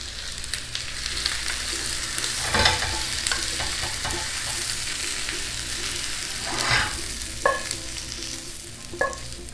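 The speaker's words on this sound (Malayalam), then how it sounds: "അപ്പോൾ നമ്മൾ ചിക്കൻ നന്നായിട്ട് ഫ്രൈ ആയിട്ടുണ്ട്." Chicken frying in coconut oil in a pan for a spicy Bellary chicken dish, a loud continuous sizzle with spatula stirring and several sharp scraping clacks against the pan.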